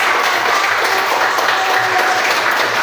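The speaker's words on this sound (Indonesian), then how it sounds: "Beri aplaus untuk teman-teman" Sustained applause from a classroom audience clapping for classmates after a group presentation, a dense steady patter throughout at moderate loudness with no talk over it.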